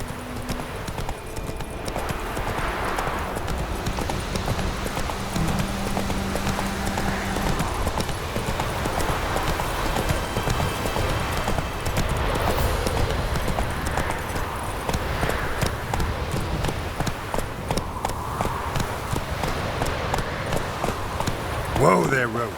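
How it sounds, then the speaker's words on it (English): Hooves of the horse in The Witcher 3 clip-clop steadily at a trot for most of the stretch, close and fairly loud, with a voice calling to the animal over the game's ambient backdrop. "Whoa there, Roach"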